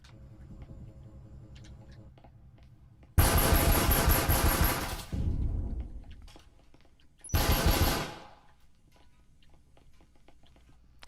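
Automatic gunfire from a Breachers VR match: two loud bursts of rapid shots, the first about two seconds long and the second briefer, set against quieter clicks and background game noise.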